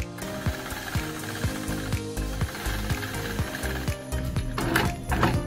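Sewing machine doing free-motion quilting of small swirly pebble shapes, a close, steady mechanical whir with a regular rapid needle thump running throughout, speeding slightly near the end.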